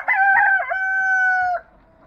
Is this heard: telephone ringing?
no